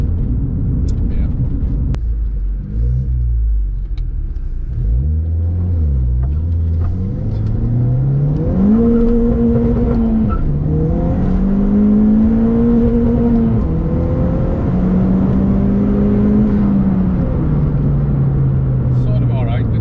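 A Ford Fiesta driven with a failing differential: the engine drones and rises through the gears as the car accelerates, with a steady whirring whine riding over road noise, while people talk inside the cabin.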